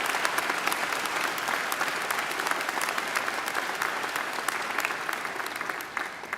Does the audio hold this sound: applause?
yes